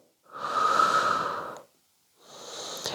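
Close, audible breaths during a Pilates leg lift: a long airy exhale of over a second, a pause, then a softer inhale, each a clear rush of air with no talking.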